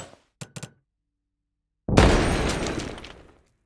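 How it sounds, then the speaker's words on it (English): A grenade detonates on a glass surface in the Lyra starter game, its layered blast topped with shattering glass. A few quick clicks come first, then a loud, close burst that rings out and decays over about a second. "an additional glass layer to the explosion, which only plays if the detonation happens while on a glass surface"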